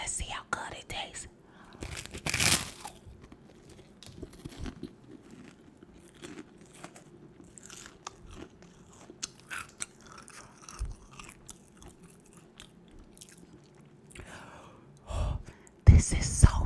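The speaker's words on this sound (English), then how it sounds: "This is a caramel rice cake. Let's see how good it tastes." Crisp bites and crunching of a dry caramel rice cake, a few sharp close crunches spread across quiet stretches of soft chewing, with a voice murmuring faintly near the end.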